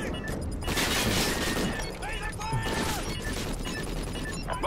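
Shotgun blasts and gunfire in a Call of Duty: Ghosts multiplayer match, dense, loud bursts over a steady game-noise bed, with background voices mixed in.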